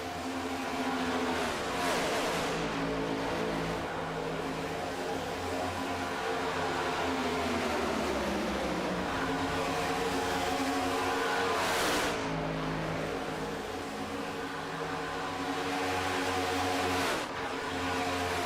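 Pack of race cars roaring around an oval short track in an OP Grand National stock car race, engines loud and continuous with rising and falling revs as cars sweep past, occasional close pass-by surges.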